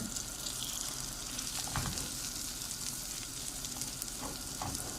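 Potatoes fry and sizzle steadily in a pan for an omelette, a dense continuous crackle with a few brief stirring clicks, fairly close and without any talk.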